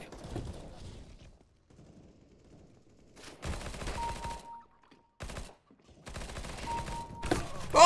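Automatic gunfire in CS:GO, with several loud bursts of rifle fire broken by short silences, close and harsh, plus a faint tone in the background.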